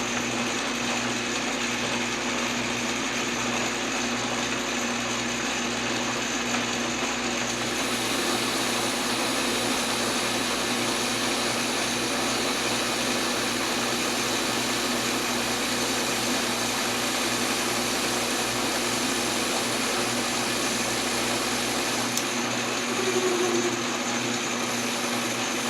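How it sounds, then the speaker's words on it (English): Aluminum stock being cut on a machine for a homemade HDPE injector part, giving a steady, loud mechanical whir and grinding drone with a constant tone that shifts slightly partway through, with no talking. "Shame to have to cut off so much aluminum to get something"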